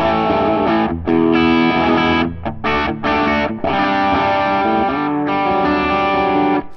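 Distorted electric guitar rhythm chords strummed steadily with brief pauses between phrases, loud and close, no talking.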